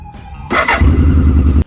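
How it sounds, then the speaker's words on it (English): A 1986 BMW K100 motorcycle engine cranks briefly, then catches and settles into a loud, steady, close idle rumble that cuts off abruptly. "So the bike ran and it started with 0 issues whatsoever"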